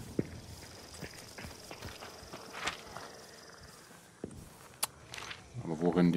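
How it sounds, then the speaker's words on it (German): Faint, irregular hoof clip-clops from a horse in the video game Hunt: Showdown 1896 sound at a distance amid quiet ambient background, with a louder rustling burst near the end. "Ich glaube, ich höre auch ein Pferd."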